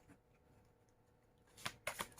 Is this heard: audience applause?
no